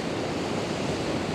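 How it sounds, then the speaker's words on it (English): Big ocean waves break on Moffat Beach, a dense, steady roar of surf and churning whitewater filling the whole brief moment, with no voices. "So still big waves like that coming through."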